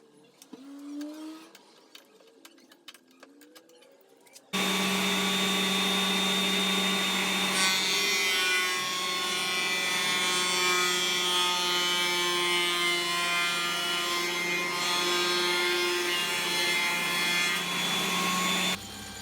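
Wooden slats from an old garden seat, bolted together as one piece, feed through a thickness planer with a sudden loud roaring whine that holds steady and close for about fourteen seconds after some quieter handling.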